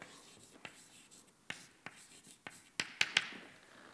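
Chalk or marker writing an equation on a board during a mechanics lecture, a faint series of short taps and scratchy strokes that grow sharper and louder toward the end.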